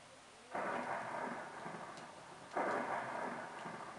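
Rumbling thunder and steady rain roll in two heavy surges, each swelling up then slowly fading, with no voices.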